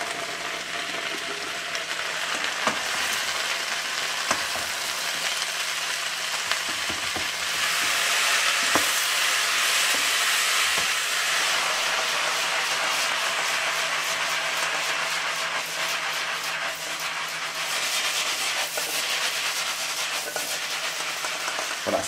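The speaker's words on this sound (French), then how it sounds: "Et on va faire revenir les légumes. Il faut vraiment que le feu soit très fort" Vegetables sauté in a pan over very high heat and are stirred constantly, giving a loud, continuous sizzle with scattered scraping and clattering throughout.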